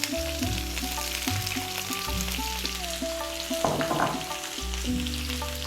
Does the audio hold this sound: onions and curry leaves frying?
yes